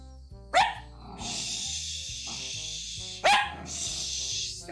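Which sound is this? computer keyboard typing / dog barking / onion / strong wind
dog barking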